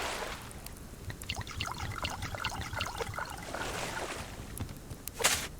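Water trickles and pours steadily into plant beds in a game garden, a soft, continuous splashing stream heard alone at low volume with a brief louder gush near the end.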